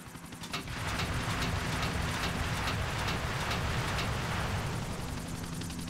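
A helicopter in Grand Theft Auto IV: The Ballad of Gay Tony gives a loud, continuous rotor roar with a steady chop, starting after a brief quieter moment and holding at full strength.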